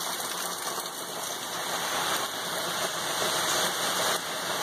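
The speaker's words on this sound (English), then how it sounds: "the camera doesn't do it much justice because it's really hard to see the rain, but it's coming down pretty good" Heavy rain falling steadily, a dense even hiss of drops that holds close and constant throughout without pause.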